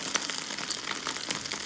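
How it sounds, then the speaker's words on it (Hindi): Potato and egg kebab patties fry in hot oil, giving a steady, faint crackling sizzle with scattered small pops throughout and no voices. "अभी हम इनको तलेंगे और आपको दिखाएंगे।"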